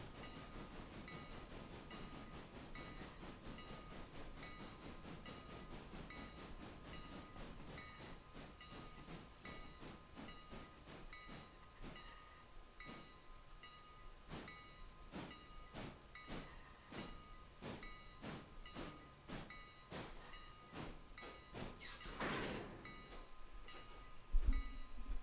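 A steam locomotive runs in the train game Railroader, with a continuous hissing rumble, a steady rhythm of rapid chuffing beats, and a brief whistle blast near the end, with no talking.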